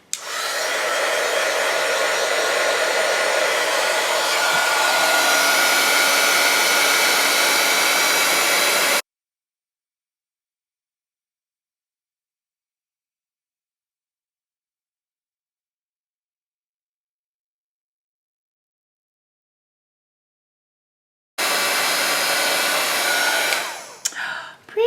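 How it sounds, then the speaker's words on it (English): A heat embossing tool blows a loud, steady hiss over a stamped holiday card for about nine seconds, stops for a long silence, then starts again briefly near the end. "So I'm going to heat this up."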